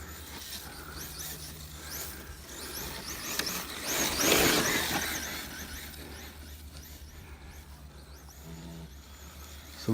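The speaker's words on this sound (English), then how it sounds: "Wheels are rubbing on the body, I think." A Kyosho DRX VE Ford Fiesta S2000 rally RC car runs with its wheels rubbing on the body, producing a scraping squeal and whirring motor that swell in the middle and then ease off.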